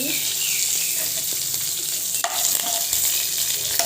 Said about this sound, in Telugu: తాలింపు వేస్తున్నాను ఎండు కరివేపాకు